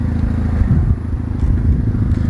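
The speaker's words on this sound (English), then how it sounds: "just to get a little tone of the exhaust while we're here" Mitsubishi Lancer EVO X exhaust rumbling at idle close by, a loud low throb with a slight clattery edge and small rises in revs, with no voices over it.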